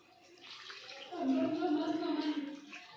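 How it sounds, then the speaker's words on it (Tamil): A pot of water is poured into a crab curry, a soft splashing and gurgling pour that swells midway and continues for about two seconds, fairly quiet and close. "இப்போ தண்ணி ஒரு செம்பு ஊற்ற போகிறோம்"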